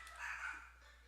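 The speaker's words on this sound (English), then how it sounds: "I can hear my dogs being loud." Pet dogs barking indoors during typhoon season, one short muffled bark or yelp heard from some distance, faint against a low background hum.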